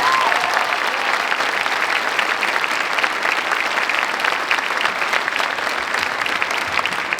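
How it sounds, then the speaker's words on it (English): An audience at an indoor marching band concert applauds steadily, a dense, even wash of clapping that holds at full strength throughout with no talk over it. "make a round of applause for Bill Gendrich"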